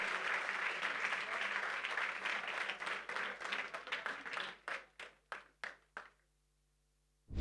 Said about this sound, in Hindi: आपकी तालियां जोरदार होती रहनी चाहिए